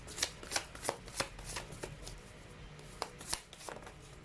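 A deck of tarot cards being shuffled by hand, a series of soft riffling bursts in an uneven rhythm, close and fairly quiet.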